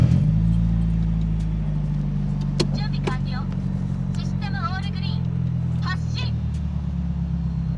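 A Mazda Miata's engine hums steadily as the car drives on coilovers, with a low, constant drone and a few brief clicks and chirpy noises layered on top.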